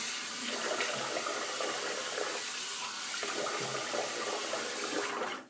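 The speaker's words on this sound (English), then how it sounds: "so I'm gonna get my face wet" Tap water running and splashing at a bathroom sink as a face is wetted, a loud, continuous broadband rush that cuts off abruptly at the end.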